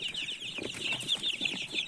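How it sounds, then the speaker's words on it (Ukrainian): Ukrainian crested chicks, hatched from eggs brought from Odesa, cheep and peep continuously in a busy, high chirping chorus with soft low clucks underneath. "Чубатики це курчатка, які приїхали до нас інкубаційним яйцем з Одеси."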